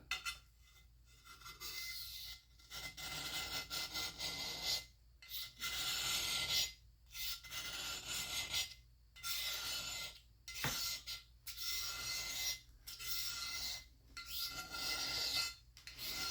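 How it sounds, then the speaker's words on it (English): A razor blade scraping heavy surface rust off a Stanley Bailey #7 hand plane, long gritty rasping strokes repeated in a steady rhythm with brief pauses between them, close and fairly quiet, with no speech. "I'm just taking off the mega surface rust, like I said, with a razor blade."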